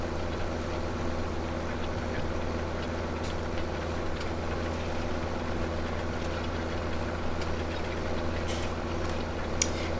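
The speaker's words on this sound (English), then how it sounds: "The tractor is having no problems at all with pulling this." A tractor pulls a wide implement across a big field in Farming Simulator 2017, a steady low mechanical engine drone holding constant and moderately quiet throughout, with no voices.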